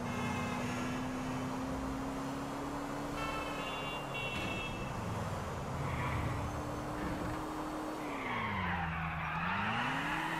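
A car in GTA 4 driven at full throttle, engine droning loud and steady with rising and falling pitch, tires squealing and skidding near the end, with no voices.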